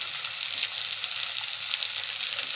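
A tadka tempering fries hard in a pan, giving a loud, continuous hissing sizzle that stays steady and close throughout, with no voices.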